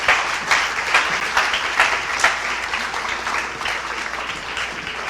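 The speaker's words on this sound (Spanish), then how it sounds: "Denle un aplauso al Señor." Church congregation applauding the Lord during a sermon, a steady wash of applause from many hands, fairly close and sustained for several seconds without talk over it.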